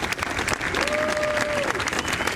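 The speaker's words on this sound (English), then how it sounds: "U.S. President Donald Trump receiving applause at the White House after signing new executive orders" Applause fills a room at the White House following the signing of executive orders, a steady dense patter of many hands clapping throughout, with a faint tonal whine riding briefly underneath.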